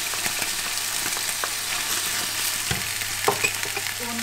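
Garlic with onion sizzling and frying in a pan for a pak choi and chicken dish, a steady crackling hiss with occasional stirring clicks and scrapes, close and moderately loud.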